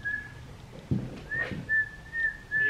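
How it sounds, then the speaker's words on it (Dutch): A person whistles a thin, repeated high tone in short phrases, trying to coax a frightened bird, with faint rustling in a quiet indoor room. "Misschien kan ik hem lokken met een fluitje."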